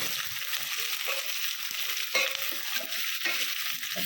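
Bottle gourd pieces stirred in a hot frying pan for Andhra-style sambar, a steady sizzle broken by several scraping spoon strokes, close and alone with no talk.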